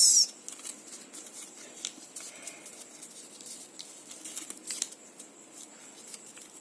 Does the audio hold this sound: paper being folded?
yes